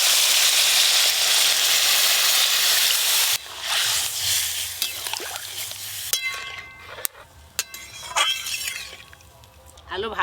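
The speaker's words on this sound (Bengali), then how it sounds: "এবার জল দিয়ে দেবো।" Water poured onto chili powder and spices frying in a pan sets off a loud, hissing sizzle for about three seconds, which settles into softer sizzling and utensil clinks while someone talks.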